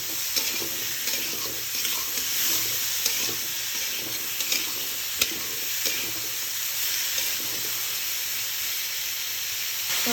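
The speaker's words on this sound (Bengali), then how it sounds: "এটাকে ভালো করে নেড়ে মিশিয়ে দিব।" A curry seasoned with salt and turmeric sizzles steadily in a pan while a utensil stirs and scrapes it in uneven strokes, a close, continuous frying hiss with no voices.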